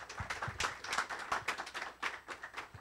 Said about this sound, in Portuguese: Vou de palmas para o Peter Bar